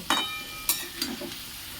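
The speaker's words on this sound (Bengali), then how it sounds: "আলুগুলো দিয়ে দেবো পোল আর আলুগুলো ভালো করে ফ্রাই করে নেব" Pieces of elephant foot yam and potato fry in oil with a steady sizzle, broken by three quick scraping stirs close by.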